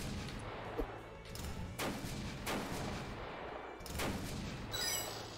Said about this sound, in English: Oh shit, I have a rocket launcher now.